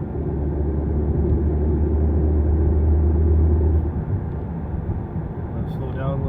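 A car cruising in fifth gear at partial throttle gives a loud, steady low rumble and drone, easing off after about four seconds, with a voice talking over it.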